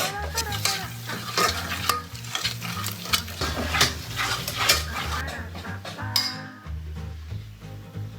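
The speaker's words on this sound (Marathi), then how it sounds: "तर आता आपण या मसाल्याला तेल सुटेपर्यंत हलवून घेऊया" Chicken masala being stirred in hot oil, loud close sizzling with repeated scraping strokes of a spoon against the pan, steady throughout with a brief clatter near the end.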